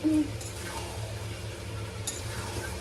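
Meat being cooked and stirred in a pan in a home kitchen, with a steady low sizzle under occasional soft scraping and stirring clinks, close and fairly quiet.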